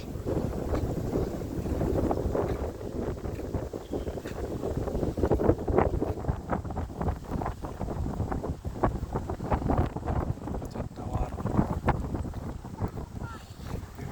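Strong wind buffets the microphone at a seashore in Qatar, a continuous loud rushing roar with gusty surges throughout, with no speech heard.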